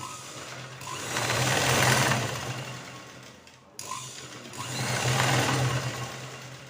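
A sewing machine stitches the neckline joint of a saree being made into a one-piece dress, running in two steady bursts that swell and fade with a brief pause between, close and alone.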